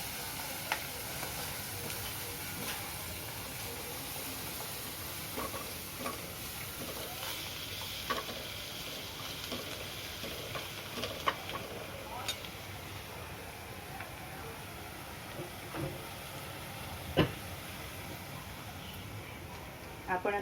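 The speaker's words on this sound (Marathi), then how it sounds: "थोडी फोडणीमध्ये कोथिंबीर पण टाकून घ्यायची." Coriander leaves stirred into hot tempering oil while making pithla, a steady low sizzle with occasional spatula scrapes and sharp crackles, faint and even throughout, with no one talking.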